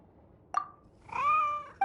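A white, fluffy cat in a video game meows twice, a short call followed by a longer, drawn-out one, with a third meow starting at the very end, all clear and close against a quiet background.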